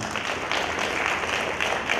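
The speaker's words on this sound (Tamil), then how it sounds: "எல்லாமே ஒரு கைத்தட்டல் கொடுங்க பார்ப்போம்." An audience giving a round of applause at a gathering, with dense, even clapping that fills the short stretch at moderate loudness.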